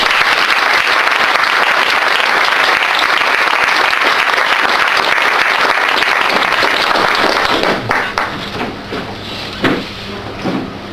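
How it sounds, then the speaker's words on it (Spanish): A church congregation claps loudly and steadily in a dense wall of applause that thins into scattered claps near the end. "vamos a dar un aplauso al Señor"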